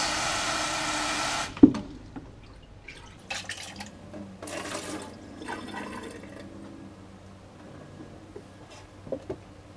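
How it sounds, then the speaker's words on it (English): Foam from a Fluval 206 aquarium filter is rinsed in water: a short burst of running water, then soft sloshing, dripping and squelching splashes that come and go at close range. "Give that a little rinse"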